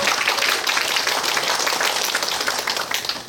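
Audience applause fills a hall at a Busan biodiversity survey sharing session on Geumjeongsan, a dense, steady wash of many clapping hands that holds loud throughout and tapers slightly at the end.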